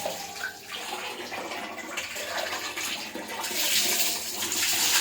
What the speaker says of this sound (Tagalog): Kaya ngayon, babanlawan ko na po siya guys.